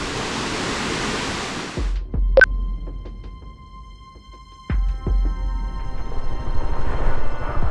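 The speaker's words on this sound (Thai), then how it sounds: "เมื่อกี้มันมีน้ำตกขั้นตรงนี้พอดี ก็เลยเข้าไปดู" A small tiered waterfall in a forest, its steady broadband rush filling the first two seconds, then continuing more quietly beneath a few sharp knocks and clatters nearby.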